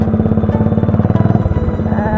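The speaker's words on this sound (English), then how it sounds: "it's a Hero Honda Hunk, and it has the same engine that Arca has, and that's a good engine" A Hero Honda Hunk motorcycle engine runs close by, thumping in a quick, even pulse that dips slightly in pitch partway through, loud and up front with no talk.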